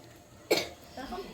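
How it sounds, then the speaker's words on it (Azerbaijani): A single sharp cough bursts out close by inside Zefir Mall in Baku, followed by quieter voices talking. "Ağzımı tut öskürəndə."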